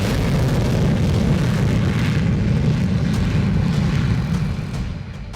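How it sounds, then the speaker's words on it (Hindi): Jaguar fighter jets roar overhead in a loud, sustained rumbling wash that stays steady, then eases slightly as the noise fades toward the end. "लड़ाकू विमानों की विध्वंसक गर्जना, दहल उठा दुश्मन का कोना कोना"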